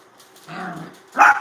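A puppy gives two short barks, the second sharper and louder, close by in an otherwise quiet indoor room.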